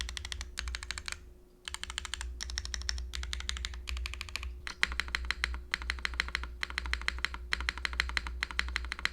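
Close-up keys of a Protagonist mechanical keyboard with Ghost Dragon keycaps clatter in quick bursts, with a brief pause near the start before rapid, even typing resumes and continues to the end.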